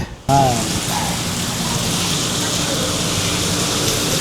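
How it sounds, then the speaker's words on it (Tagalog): Steady rain pours outside a hotel room at a Boracay beach resort in the evening, a continuous broadband hiss that starts abruptly after a brief quiet moment and holds loud and even throughout. "Kaso, katulad kagabi, palabas na tayo, umulan na naman."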